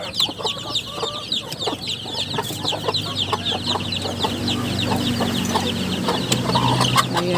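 A flock of chickens with young chicks clucks and cheeps steadily at afternoon feeding time, a busy, close chorus of overlapping calls throughout.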